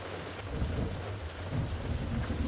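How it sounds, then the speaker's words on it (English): Steady rain falls in a continuous broadband hiss, with low rumbling underneath that swells around the middle and end; no voices. "Yeah, I know it's raining"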